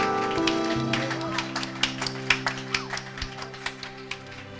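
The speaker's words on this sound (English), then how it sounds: "Stand up and clap for Jesus Christ." Church congregation standing and clapping together, a series of sharp hand claps in a loose rhythm over sustained music and room noise, growing more regular toward the end.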